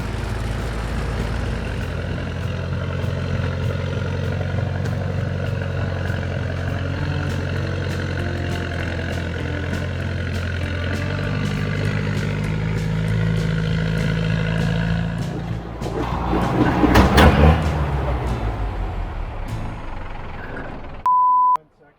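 Dodge M-37 military truck with a 4BT Cummins diesel swap climbing loose rock, a steady low diesel chug under continuous talk, swelling louder near the end before a short electronic beep.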